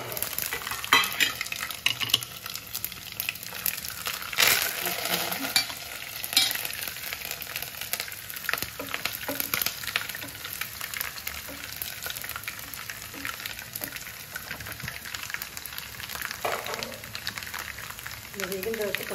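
Mustard seeds, cumin and dry red chillies frying in hot oil for a chilli pickle give a continuous close sizzle with scattered pops and a few clinks of a spoon against the pan, while someone talks over it.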